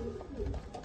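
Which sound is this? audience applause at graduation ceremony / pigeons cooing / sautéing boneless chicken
pigeons cooing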